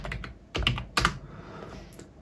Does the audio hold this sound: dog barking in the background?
no